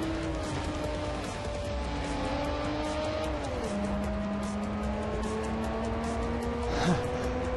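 A race car engine in Forza Motorsport 4 drones steadily with a tonal whine that drops in pitch partway through as it shifts, with a brief sharper squeal near the end.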